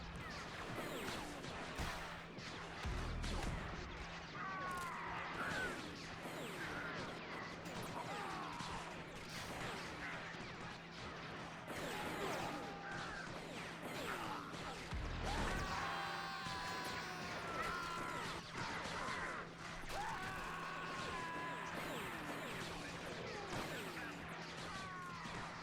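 Steady, dense blaster fire in a Star Wars: Galaxy at War battle, many overlapping zaps and crackling impacts left and right, with occasional heavier thuds, continuous and moderately distant, with a voice talking over it.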